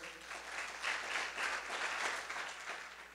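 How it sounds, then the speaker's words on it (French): An audience applauds two competing school teams, Saint-Louis de Bourdon and Lycée Louis-Joseph Janvier, at a televised quiz show, with steady, fairly faint crowd clapping that swells and holds throughout. "Merci déjà d'applaudir ces deux établissements scolaires"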